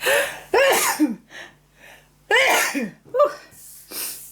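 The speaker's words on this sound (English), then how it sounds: "I need to sneeze." Several loud, close sneezes and throat-clearing bursts come in quick succession, separated by short breathy pauses and gasps.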